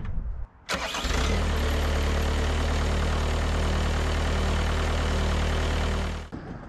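A small engine, primed with its fuel bulb, fires up abruptly after a brief pause and settles into a loud, steady close-up idle for several seconds before cutting off.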